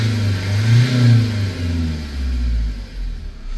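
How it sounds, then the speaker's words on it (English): A Vauxhall Vivaro van's diesel engine, suffering injection faults, revs up and down close by, its low rumble rising and falling in repeated swells with no talk over it. "so let's start the engine again. Let's see if we hold up the revs."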